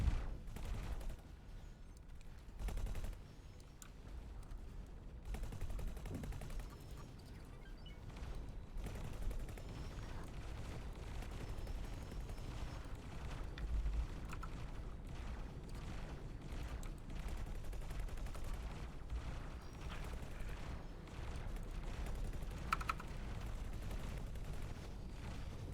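Weapons fire at a turret in the space game X4: Foundations, a faint, continuous stream of rapid shots and low rumbling impacts, steady and distant-sounding throughout.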